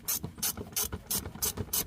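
Ratchet wrench clicking in regular bursts, about six quick pawl strokes, close and clear, while replacing the serpentine belt on a Chevy Cobalt or Pontiac G5 with the 2.2 L Ecotec engine.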